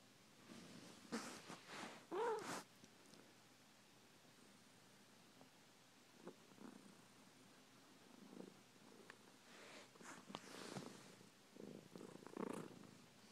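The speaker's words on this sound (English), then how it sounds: "Hey, you're snoring." An 18-year-old tortoiseshell cat snores softly, close up, with slow rhythmic breaths and faint rustling amid quiet background hiss.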